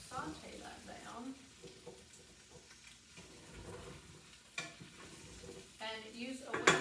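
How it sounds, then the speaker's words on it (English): Beef stew ingredients sauteing in a pan, soft sizzling under quiet stirring and scraping, with a person talking intermittently over the cooking sounds. "Just going to saute that down."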